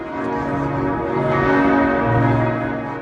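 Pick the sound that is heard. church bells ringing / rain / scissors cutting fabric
church bells ringing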